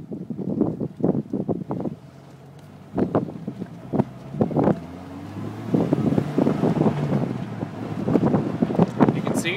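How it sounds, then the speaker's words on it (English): Wind buffeting into the cabin of a 1999 Jeep Wrangler while driving, a steady rushing roar with low rumbling gusts that swells and rises toward the end. "There'll be a lot of wind coming in, so I'm not quite sure how much you'll be able to hear from the engine"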